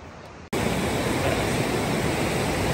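A Himalayan river along the Shey Phoksundo trek in Dolpa rushes loudly and steadily, a dense broadband roar of flowing water that bursts in after a brief quieter moment and continues unbroken, with no talk.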